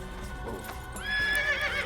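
Horse hooves clip-clopping in the Assassin's Creed video game, with a close, loud neigh rising partway through and carrying to the end.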